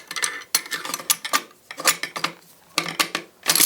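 Sharp metallic clicks and sliding scrapes come in quick clusters with short gaps as the piston and bolt carrier of a Century Arms BFT 556 AK-47 rifle are put back together, close and crisp.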